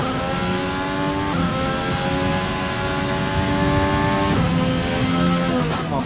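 A Formula 1 race car engine in F1 2020 howls at high revs, climbing steadily through gears with sharp shifts, loud and continuous with no talk.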